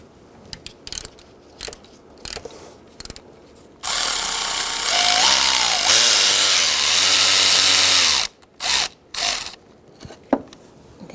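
A power ratchet or impact tool whirs steadily for about four seconds loosening a thermostat housing bolt on a 2000-2007 Ford Taurus 3.0L V6, bracketed by scattered metallic clicks and clanks of tools and hardware nearby.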